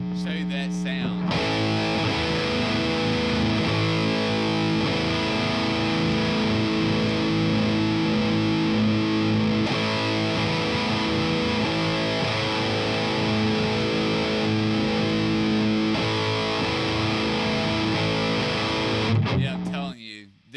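Electric guitar played through a Peavey Redstripe Transtube amp with heavy distortion, a dense, loud, sustained wall of crunching chords running continuously for about twenty seconds before cutting off.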